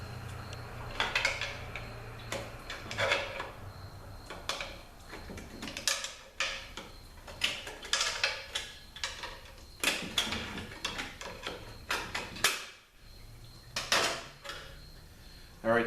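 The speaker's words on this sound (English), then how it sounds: "So let's get the snap ring out." A snap ring comes out of the 2-4 clutch assembly of a 545RFE transmission during teardown, giving faint scattered metallic clicks, ticks and scrapes spread irregularly through the clip.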